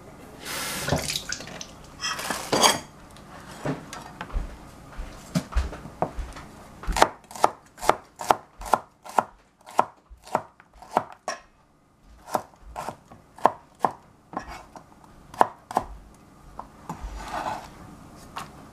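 Onions being chopped on a cutting board for a leftover couscous salad, a series of sharp, evenly spaced knife strikes close by, with some brief rustling and handling noise at the start and end.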